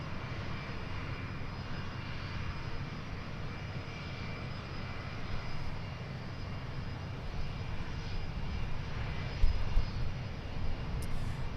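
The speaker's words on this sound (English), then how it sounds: "Got a flight on short final. The Challenger 650." A Bombardier Challenger 650 business jet on short final at Boeing Field gives a loud, steady engine roar that holds for the whole stretch, swelling slightly near the end, with no talk.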